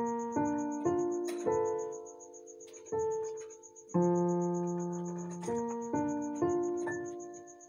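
Jazz piano left-hand chords played in sustained blocks, several changes struck in a loose rhythm, each chord ringing and decaying before the next, close and clear with no talking.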